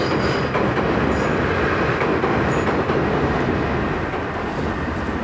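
A train crosses a rusty railway bridge in Tokyo, its steady loud rumble and clatter of wheels rolling on continuously from start to end with no talking.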